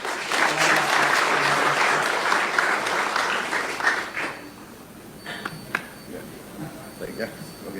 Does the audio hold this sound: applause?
yes